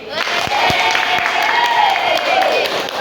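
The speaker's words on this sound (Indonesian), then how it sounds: "Tepuk tangan" Steady applause from a vocational high school class, continuous clapping for a few seconds with some crowd noise mixed in.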